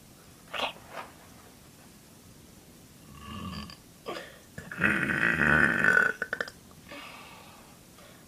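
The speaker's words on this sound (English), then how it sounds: "maybe I'll get in a little burps for you guys" A person lets out several burps, short ones early and then a longer, louder croaking belch, with a few breathy sounds in between and no talking.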